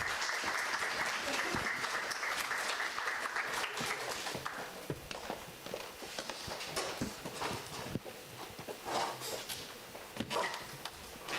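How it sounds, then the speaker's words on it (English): Applause from an event audience at a high-school entrepreneurship competition final, a dense continuous patter of many clapping hands filling the room throughout, with some cheering mixed in. "So let's give them some applause."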